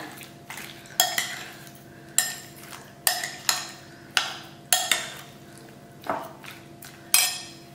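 A spoon stirs salt into a Goan cutlet mixture in a bowl, scraping and knocking against the sides in repeated sharp clinks roughly once a second, close up and fairly quiet.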